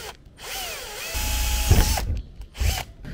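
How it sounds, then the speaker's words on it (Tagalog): A power drill bores holes in the roof of a van for a solar panel mount. It whines loudly in bursts with rising and falling pitch and grinds as the bit meets the roof, which carries body filler. "So, butasan lang natin."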